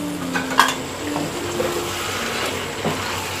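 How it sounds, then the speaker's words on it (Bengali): A lid lifted off a pot of vegetables cooking on the stove: a faint metallic clink of the lid over a steady soft sizzle and simmer, with small utensil sounds later. "ফ্রেন্ডস, এখন আমি ঢাকনাটা তুলে দেখি সবজি কি পরিমাণ হলো।"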